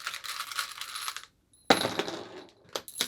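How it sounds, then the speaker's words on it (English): Nails clatter onto a hard surface in two bursts like spent bullet shells, a dense jingling scatter, a pause, then another spill tapering off with a few late tinkles. "you can see there's bullet shells there. We'll do that with nails"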